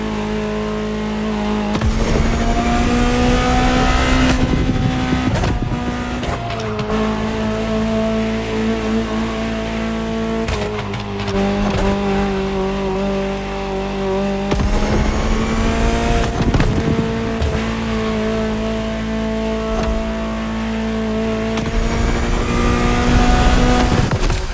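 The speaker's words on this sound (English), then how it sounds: "Just listen to the car you're driving." A Ferrari supercar engine in the racing game The Crew Motorfest, loud and close, with steady high revs, repeated upshifts and surges of acceleration running continuously with no talk.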